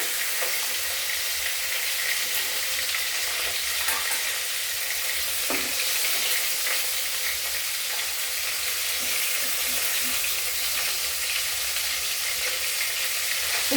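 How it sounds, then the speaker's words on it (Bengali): Thin pieces of rohu fish fry in oil for a fish curry with potato and cauliflower, a dense continuous sizzle heard close and steady, broken only by a few faint clicks and scrapes. "কড়া করে ভাজবো না মাছ"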